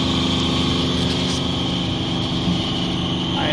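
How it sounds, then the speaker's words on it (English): An old engine in a Chevrolet Suburban races at a high, steady idle just after starting, a loud continuous motor drone with a whining hum running throughout. "this motor races until it gets going"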